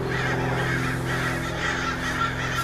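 Crows call while flying overhead, harsh cawing mixed into a steady loud background drone that runs through the whole stretch.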